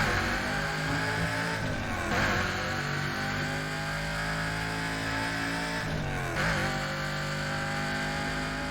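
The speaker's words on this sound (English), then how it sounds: "the way that the engines sound" A car engine from the Burnout Paradise racing game drones steadily at high revs, its pitch sweeping up and dropping sharply twice as gears shift, loud and without talk.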